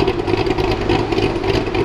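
A Ford Mustang engine idles close by in a steady, low rumbling drone with a slightly uneven pulse, loud and continuous through the short stretch with no talk over it.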